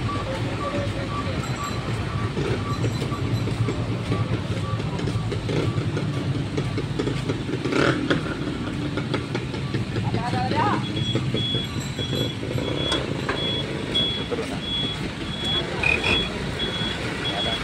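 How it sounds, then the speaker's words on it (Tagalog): Busy street traffic with trucks rumbles steadily nearby, a reversing beep repeating faintly in the second half, heard while walking outdoors. "Traffic na rito."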